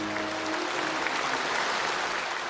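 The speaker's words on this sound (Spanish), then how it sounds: "el presidente Xi Jinping tomó la palabra en medio de los aplausos de los asistentes." Audience applause at a Chinese Communist Party congress in Beijing's Tiananmen Square area, a dense, continuous wash of clapping from a large crowd, loud and even throughout.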